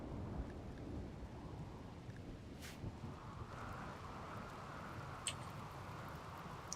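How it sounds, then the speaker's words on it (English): Rain and thunder in the video game Rimworld: a steady wash of rainfall with low rumbling thunder beneath, a few brief crackles over the top, fairly quiet and continuous, no talking. "Yep, it's raining."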